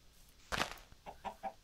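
Chickens cluck in a farming video game, a burst of loud clucking followed by three shorter, softer clucks in a steady rhythm, fairly close with no talk.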